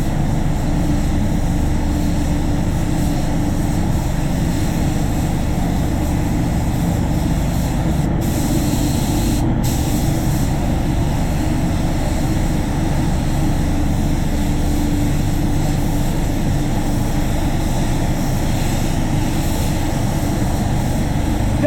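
A spray gun applies Standoblue basecoat paint to a car, producing a loud, continuous close-up airy hiss with a constant compressor-like roar that barely changes, broken by two very brief dips.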